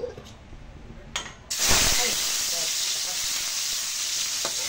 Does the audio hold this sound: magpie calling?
no